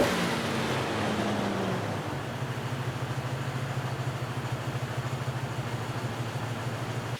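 A car engine idling during a misfire diagnosis runs with a steady low throb. After a brief early change it settles into a fast, even pulsing rhythm, close and continuous with no talk.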